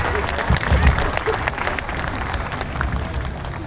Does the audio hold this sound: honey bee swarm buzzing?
no